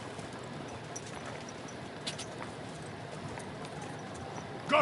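Hooves of a horse clip-clop steadily in a video game, soft and fairly distant, a continuous rhythmic patter with a louder bump near the end and no talk.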